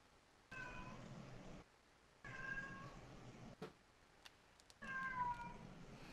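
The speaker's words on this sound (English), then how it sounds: "Is that the same cat or is that a different cat?" A cat meows right up against a microphone, three drawn-out cries separated by pauses, faint overall with some soft handling bumps between them.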